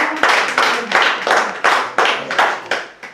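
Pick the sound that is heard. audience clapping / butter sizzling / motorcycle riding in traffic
audience clapping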